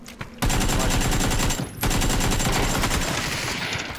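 Sustained bursts of rapid automatic gunfire in PUBG on the Vikendi map, loud and close, with a brief pause partway through before the firing resumes.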